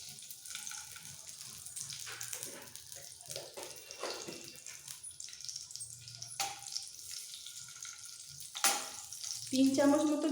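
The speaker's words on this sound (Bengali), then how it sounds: "গ্যাস অন করে কড়াই বসিয়ে দিয়েছি। কড়াইটা গরম হয়ে গেছে। দিয়ে দিচ্ছি ঘি।" Ghee melting in a preheated kadai on a gas stove, a soft steady sizzle and hiss running through the whole stretch, with a metallic clank near the end and a louder burst of frying at the close.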